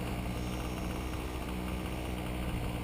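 DJI 550 drone in flight, a steady, even whir of spinning propellers and motors holding constant with a faint high tone, no voices over it.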